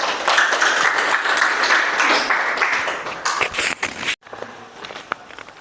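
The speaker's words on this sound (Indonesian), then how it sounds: "Beri tepuk tangannya." An audience in a classroom applauds after a group presentation, a dense patter of clapping for about four seconds that stops abruptly, followed by a few scattered claps and small noises.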